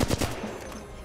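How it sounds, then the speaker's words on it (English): Short bursts of gunfire crack in the video game Apex Legends, a few rapid shots clustered at the start and then fading, loud and close with no talking. "I'm compensating for the recoil and I'm burst firing instead of constantly holding my trigger."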